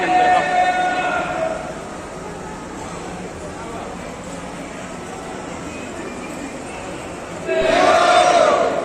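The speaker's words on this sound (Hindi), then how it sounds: "महाकाल के नारे लग रहे हैं जोरों से" A crowd inside the Mahakaleshwar temple in Ujjain chants loud Mahakal slogans, the voices swelling in bursts at the start and again at the end over a constant echoing murmur of the packed hall.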